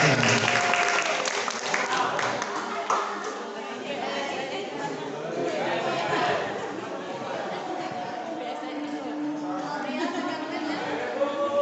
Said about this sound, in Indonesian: Kita kan berikan aplaus untuk IPA